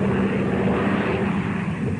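A propeller airplane from the early 1940s drones steadily overhead in a continuous, loud engine roar with a low hum beneath, unbroken for the whole stretch and without voices.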